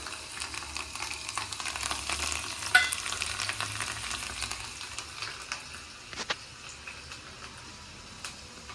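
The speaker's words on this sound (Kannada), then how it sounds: "ಈ ಆಯಿಲ್ ಎಲ್ಲ ಬಿಸಿಯಾಗಿದೆ. ನಾನು ಇವಾಗ ಬೆಳ್ಳುಳ್ಳಿ ಹಾಕ್ಕೋತಾ ಇದ್ದೀನಿ." Chopped garlic fries in hot oil for a Rajasthani garlic chutney, giving a steady soft sizzle with faint stirring scrapes and a few louder clinks near the middle, close by with no talking.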